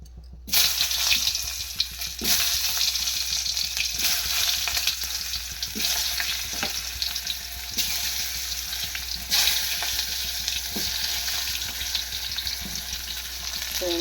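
Tomatoes drop into hot oil for a wheat rava dosa and fry with a steady loud sizzle and crackle close up, with occasional stirring clinks over the constant hiss.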